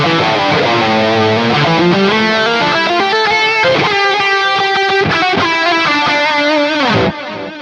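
Electric guitar lead tone through a Fractal amp modeler with stereo chorus after the cabinet, loud distorted sustained melodic notes and bends played alone, ending in a sudden drop-off.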